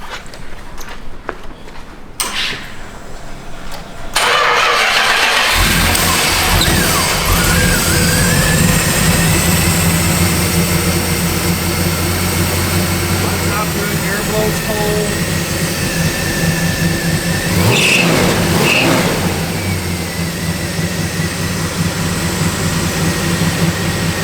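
1968 Dodge Charger engine started up and running close by, a loud, steady rumbling idle with a couple of rises in revs, faint voices underneath.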